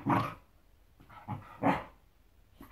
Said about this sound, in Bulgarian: Той може да лае силно